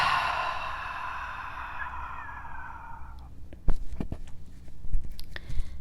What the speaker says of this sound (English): exhale out the mouth like you're just releasing all the stress out